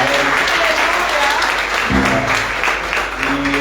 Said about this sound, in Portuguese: peço uma salva de palmas ao pastor Leo e toda a equipa que trabalha